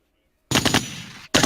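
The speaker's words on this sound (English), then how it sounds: "Oh, we got the gunshots." A gunshot sound effect fires as a sudden loud burst of rapid-fire shots after a moment of silence, cuts out briefly, then resumes.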